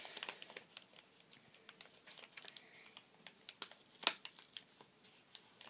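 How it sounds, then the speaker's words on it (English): A Lush product is unwrapped by hand, with soft crinkling of paper or plastic wrapping broken by sharp crackles and ticks, close and quiet. "I'm just trying to unwrap it good"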